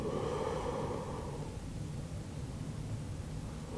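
Slow, deep breathing during a beginner yoga stretch, a long breathy exhale that fades into a steady low rushing hiss, close and fairly loud with no talking.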